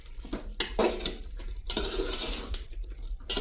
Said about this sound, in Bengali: তো এখন আমি সব উপাদান একসাথে নেড়ে চেড়ে দিচ্ছি।